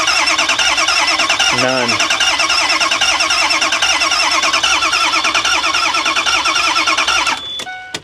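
A Ford E350 bus with a 6.0 diesel engine cranks steadily on its starter without catching, a loud rhythmic churning that runs for about seven seconds before cutting off.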